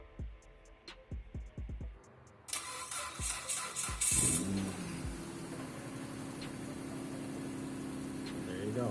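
A Mitsubishi Eclipse 3.8L V6 cranks briefly, fires with a loud rising catch, then drops into a steady idle. Clicks and knocks come before the start.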